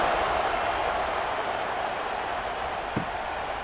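A stadium crowd in the EA College Football 26 video game roars and cheers steadily before a kickoff in a Virginia Tech at Florida State matchup, a broad, loud wash of noise that holds throughout.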